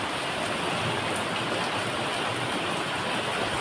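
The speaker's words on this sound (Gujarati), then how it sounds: "જો એ આવ્યો આવ્યો ભાઈ વરસાદ આવ્યો જો" Rain falls outside on a hot summer day in Bhavnagar, making a steady, even hiss of drops on surfaces with no talk.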